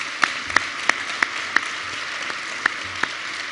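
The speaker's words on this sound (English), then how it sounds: "So a round of applause for Susan Corbett," A convention audience at a leadership awards event claps for Susan Corbett, a handful of distinct, spaced claps standing out over a quiet room tone rather than full sustained applause.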